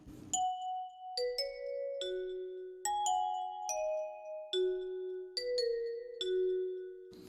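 A plugg-n-b producer sound-pack bell melody plays alone, about a dozen clean struck bell notes in a steady rhythm, each with a bright attack and a ringing tail that overlaps the next.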